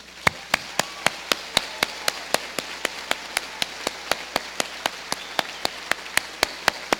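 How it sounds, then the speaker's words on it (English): Graduates at a community college commencement ceremony clap for themselves, heard as a steady series of sharp, evenly spaced claps, about three per second, ringing out clearly over a quiet room. "I want all the graduates to stand and applaud yourselves"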